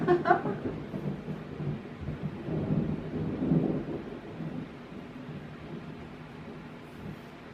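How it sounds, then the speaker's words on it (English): Thunder rumbling during a thunderstorm, a deep rolling boom that swells and fades over several seconds with a soft rain-like hiss beneath, heard alone and at moderate distance. "thunder."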